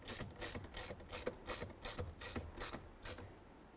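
A ratchet clicks steadily while tightening the upper combination switch screw on a 1999-2007 Chevy Silverado steering column, about a dozen soft, close, even ratcheting pulls with no talk.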